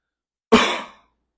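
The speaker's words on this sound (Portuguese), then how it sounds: "eu peço para o aluno tossir" One short, sharp cough, close and clear, surrounded by silence, from a patient during a spinal rehabilitation examination.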